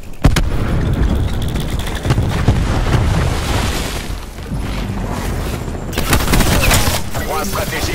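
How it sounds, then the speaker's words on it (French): Cluster grenade explosions and gunfire in Call of Duty: Black Ops 4, during a Hardpoint match on the Jungle map, form a dense, loud barrage of overlapping booms and shots that keeps going for the whole stretch, with sharp bursts near the start and end. "Grenade à dispersion lancée."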